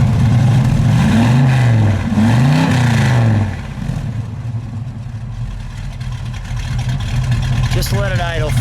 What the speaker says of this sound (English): give it a rev, please.